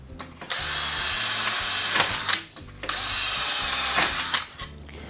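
Power drill boring through aluminium through a template while building a kitchen, two loud close whining bursts of about two seconds each separated by a short pause, with a high grinding edge as the bit cuts the metal.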